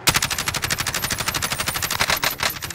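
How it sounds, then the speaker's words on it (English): Rapid automatic gunfire from a firefight in the Call of Duty Warzone battle royale video game, a steady stream of sharp, evenly spaced shots at close range, loud and continuous with no talking. "Fellas, they're shooting from behind, no?"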